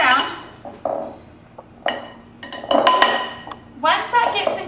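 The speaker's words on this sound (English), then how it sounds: "Okay, so keep stirring that around." A fork stirs homemade face paint paste, a thick moisturizer-like mixture, in a dish, giving irregular clinks and scrapes against the container with quiet gaps between strokes.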